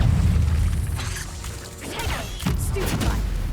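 An Incendio fire spell cast in the Hogwarts Legacy video game during combat, a loud whooshing, crashing burst followed by smaller impacts and thuds over a steady low battle rumble.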